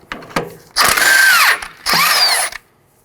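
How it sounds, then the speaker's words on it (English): Two loud bursts from an impact wrench spinning a 19mm socket on a sway bar link nut of a 2013-2019 Nissan Sentra, each whine lasting under a second with a short click before, close up and without talk. "To remove my sway bar link, I'm going to use a 19mm on an impact."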